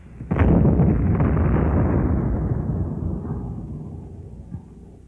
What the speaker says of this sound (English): a swell target for the 81 millimeter heavy high explosive shell